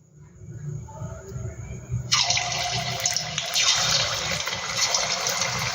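Crispy evening snacks drop one by one into hot oil, bursting into a loud, bright hissing sizzle that starts suddenly partway through and continues steadily close by, after quieter low background sounds.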